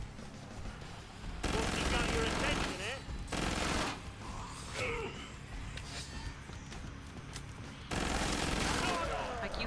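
Heavy weapon guns firing in the zombie shooter Killing Floor 2, loud sustained bursts of rapid gunfire that come in several long blocks separated by brief quieter pauses.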